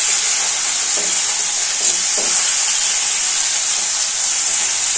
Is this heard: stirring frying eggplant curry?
yes